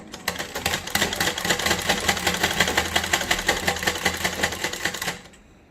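A sewing machine runs steadily while stitching piping onto a blouse, its fast even needle clatter close and continuous before it stops abruptly near the end, with no talking.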